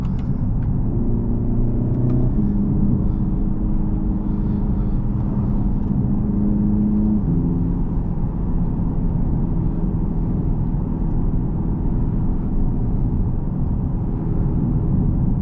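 Hyundai Ioniq 5 N, a 2025 electric performance car, accelerating hard from low speed with N Grin Boost engaged: a loud steady cabin rumble with a synthetic engine tone that steps up through simulated gear changes, no talking.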